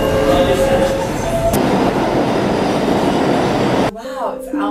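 A subway train in New York rumbles past close and loud with a steady roar and a brief high squeal, then the noise drops away to quieter surroundings at the end.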